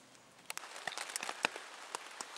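Rain falling fairly heavily on a one-person Settler tent at night, heard from inside as irregular close pattering drops and taps on the fabric over a quiet background.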